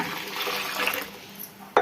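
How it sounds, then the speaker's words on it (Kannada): About half a litre of water is poured into a bowl of jaggery to make panaka, a short splashing fill ending in a brief louder slosh. "ಇವಾಗ ಅರ್ಧ ಲೀಟ್ರಷ್ಟು ನೀರು ಸೇರಿಸ್ಕೊಳ್ಳೋಣ"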